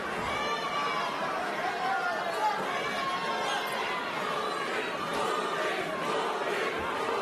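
Boxing arena crowd roaring and chanting during a bout, a constant loud wall of voices and cheers with a commentator talking over it.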